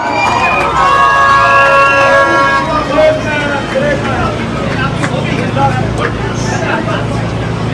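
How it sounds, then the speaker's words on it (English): A large crowd at a Pakistani mela in Brooklyn, New York, roars and cheers in welcome for the New York City mayor, a dense sustained swell with whoops and voices mixed through it. "with a big round of applause, give a warm welcome to the first Muslim immigrant mayor of New York City"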